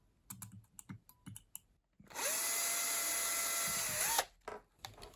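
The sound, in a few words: power drill drilling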